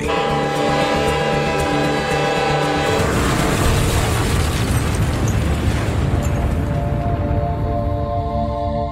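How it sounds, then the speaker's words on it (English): A massive train explosion in a remote northern North Korean town: a steady tonal drone gives way around three seconds in to a loud, dense, sustained roaring blast that rumbles on to the end, with no voices. "there was a massive train explosion in northern North Korea"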